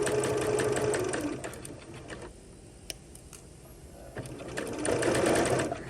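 A sewing machine stitches through layered fabric along the crotch seam of pajama shorts, its rapid mechanical whirr running in close, steady bursts with a quieter pause in the middle before resuming.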